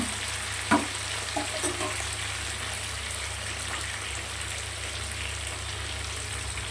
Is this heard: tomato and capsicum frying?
yes